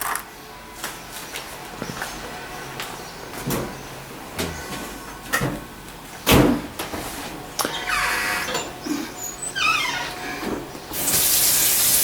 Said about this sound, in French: Faut mettre un peu d'eau quand même.